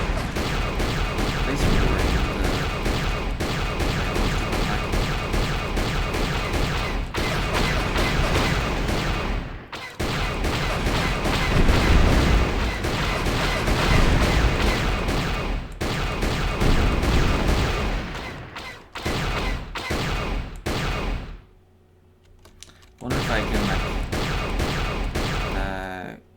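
Incoming blaster gunfire in Star Wars: Knights of the Old Republic on PC, a sustained, loud barrage of rapid shots and crashes with brief drops to near silence.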